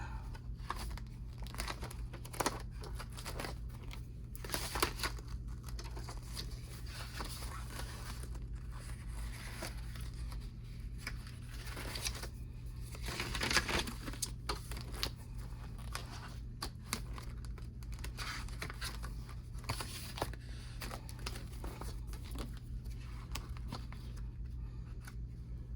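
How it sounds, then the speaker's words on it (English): Close, faint paper and sticker handling: repeated small crinkles, peeling and tapping sounds in irregular bursts, with a slightly louder rustle midway and a low steady background hum. "I need to put a sticker on this so I can find it."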